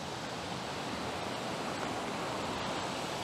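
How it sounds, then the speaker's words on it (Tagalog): River water rushing strongly past a riverside campsite in Liwliw, Laguna, a steady loud broadband roar of flowing current, close and continuous without voices. "Tapos narinig nyo na ba yung tubig?"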